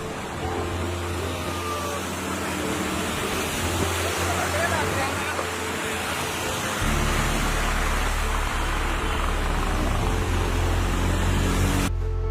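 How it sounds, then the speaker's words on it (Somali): Rainwater flowing through the streets of Mogadishu while car tires splash through it, a dense continuous rushing wash with a heavier low rumble as a vehicle passes midway. "biyo xareed ah ayaa dareeraya dhabooyinka Muqdisho taayarada gaadiidka ayaana kala sayrinaya"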